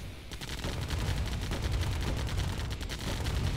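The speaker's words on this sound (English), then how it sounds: "You'll see the turrets here doing a lot of damage." Turrets firing in a real-time strategy game, a dense, continuous stream of rapid gunshots and bursts with a heavy rumbling low end, loud and relentless.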